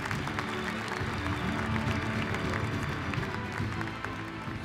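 Audience applauding at a Beşiktaş e-Sports TR League Winter Playoffs grand final event in Turkey, dense continuous clapping from a crowd at steady loudness, fading slightly at the end.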